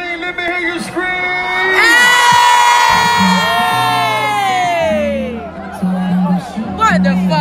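Concert crowd at a rap show screaming, whooping and cheering loudly and continuously over bass-heavy music, the roar swelling and holding for several seconds with shouts mixed in.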